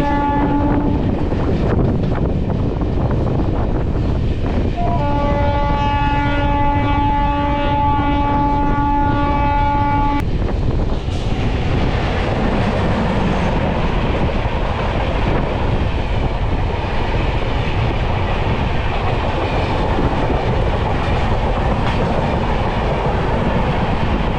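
The 68001 Santragachi–Jhargram MEMU train runs on rails with a loud, steady, close rumble, and a sustained horn tone sounds over it for the first ten seconds.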